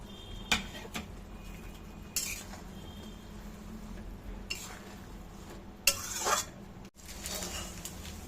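Fried okra goes into a simmering curry in a pan, heard as scattered metallic clinks and scrapes of a spoon against the pan with a few louder tumbling bursts over a low bubbling background.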